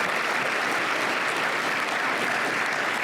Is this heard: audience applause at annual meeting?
yes